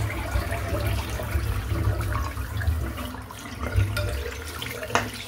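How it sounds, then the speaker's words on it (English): Water splashing and sloshing in a filled bathroom sink, a continuous close wet churn with occasional sharper splashes. "Fill the sink up. And we'll splash a little bit of water off."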